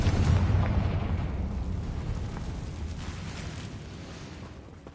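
A Confringo blasting spell explodes in the game Hogwarts Legacy, a loud boom at the start that rolls into a long rumbling decay and fades over several seconds.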